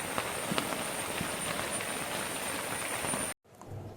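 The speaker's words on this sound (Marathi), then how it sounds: "पाऊस आज खूप आहे, उद्या नागपंचमी आहे ना, त्याच्यामुळे पाऊस खूप आहे आज" Heavy monsoon rain in the Konkan region falls as a dense, steady hiss with scattered drop impacts, continuous and loud until it cuts off abruptly near the end, followed by quieter rain.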